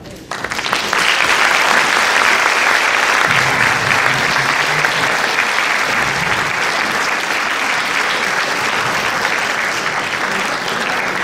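Sustained, loud applause from an audience at a tribute event as flowers are presented, dense steady clapping that starts abruptly and continues evenly throughout.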